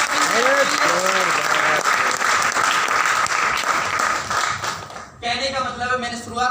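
An audience at a business plan presentation breaks into loud, dense applause that holds steady for several seconds under a talking voice, then fades as speech continues alone.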